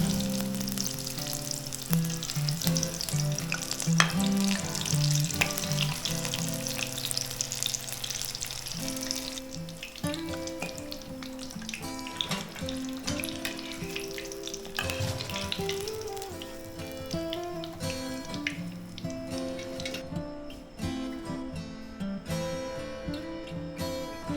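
Eggplant and onion bajji, North Karnataka style, frying in hot oil with a steady sizzle and crackle, though music with tonal lines runs continuously over it throughout, leaving the frying partly masked beneath.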